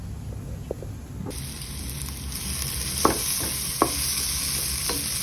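Onions sauté in a pan at home, a steady sizzle joined partway by brighter hiss, with a few sharp spoon knocks and stirring scrapes standing out close by.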